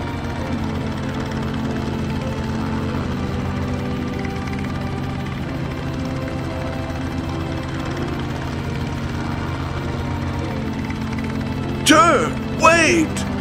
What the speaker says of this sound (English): What's that noise? Is that a helicopter?